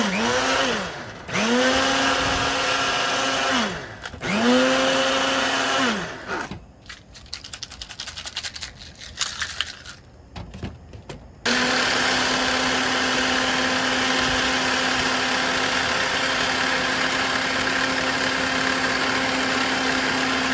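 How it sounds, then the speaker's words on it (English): A blender whirs loudly while blending a watermelon smoothie with honey and lime, its motor pitch dipping and rising in surges and cutting out briefly before settling into a steady, close, continuous drone. "And now let's blend the smoothie."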